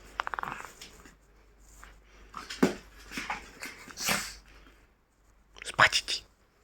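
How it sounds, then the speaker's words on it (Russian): A pet dog whimpers and yips indoors in a series of short, high, nasal whines and brief yelps with uneven pauses, close by and fairly quiet, while someone speaks over part of it. "А вот и сам виновник этих странных звуков, которые вы слышите за кадром, когда я снимаю видео. Мой малыш. Мой любимый пес Нубис."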